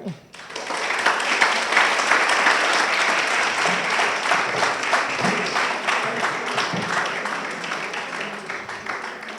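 Audience applause welcomes the two finalist teams at a school eloquence competition final, a large crowd clapping loud and steady for the whole stretch after a brief quiet start.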